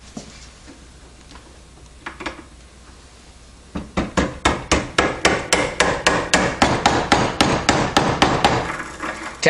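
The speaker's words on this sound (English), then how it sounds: "tapping it in with a plastic hammer to make sure that you don't do any damage" A plastic hammer taps a steel axle shaft into a 1953-1962 Corvette steering gearbox during a rebuild: a few scattered knocks, then a steady run of about twenty crisp, evenly spaced taps, close and clear.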